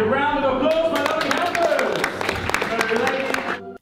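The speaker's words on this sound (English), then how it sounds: "And a round of applause for my lovely" Applause from an audience for child helpers at the Harry Potter Studio Tour: scattered, fairly close hand claps patter under a speaking voice, fading out at the end.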